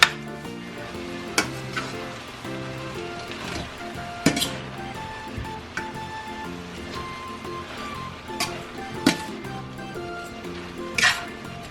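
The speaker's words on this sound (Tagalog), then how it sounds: "ilagay na natin ang ating ampalaya. Lutuin muna natin siya." Bitter gourd (ampalaya) cooking in a pan for sarciado, with a steady sizzle under it and sharp, irregular clinks and scrapes of a utensil stirring against the pan.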